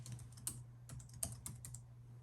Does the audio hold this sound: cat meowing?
no